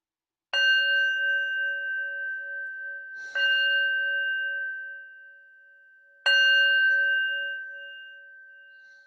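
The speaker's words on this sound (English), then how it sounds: "I'm going to start with the bell, and I'm going to ask you to follow that sound until it's gone" A single bell is struck three times at a slow, uneven pace, each clear ringing tone sustaining and slowly fading away, with no talking.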